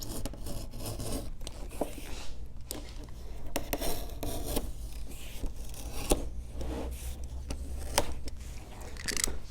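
A blade cuts through a side of Herman Oak leather with continuous close rasping and scraping strokes, broken by sharp ticks and snips along the cut.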